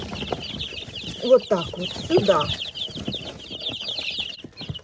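Small chicks are herded into a large cardboard box, giving a dense stream of high, rapid peeping throughout. Someone talks over them, with some rustling of cloth and handling nearby.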